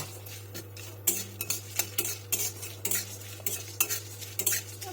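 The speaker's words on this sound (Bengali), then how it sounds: "পরে দিচ্ছি জিরে, দেব একটু মৌরি, দিয়ে সুন্দর করে আমি ভেজে নেব।" Chili, cumin and fennel seeds frying in a pan, with a spoon scraping and stirring against the metal in repeated sharp strokes over a steady low hum and faint sizzle, no voices.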